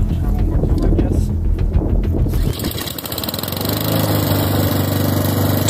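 A lawn mower engine firing back up, its loud rough roar swelling and then settling into a steady running drone with wind buffeting the microphone throughout.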